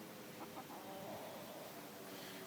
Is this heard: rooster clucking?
yes